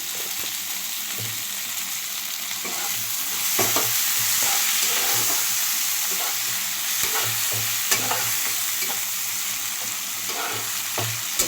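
Salted onions fry in a nonstick pan with a continuous crackling sizzle, broken by repeated scraping and stirring strokes of a spatula. The sound is close and steady, with no voices.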